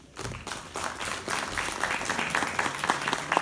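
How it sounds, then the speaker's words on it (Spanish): Audience applause at a Spanish-language ceremonial address, a steady wash of clapping that builds quickly and holds at moderate, fairly distant level with a few sharper individual claps standing out near the end. "pida un aplauso, por favor"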